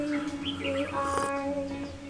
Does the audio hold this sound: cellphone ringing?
no